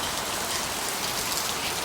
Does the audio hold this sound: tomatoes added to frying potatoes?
no